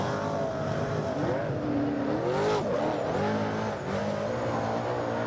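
Super saloon race cars, including a big block machine, roar around a track during a New Zealand championship race, engines revving and rising and falling in pitch as they pass, loud and continuous.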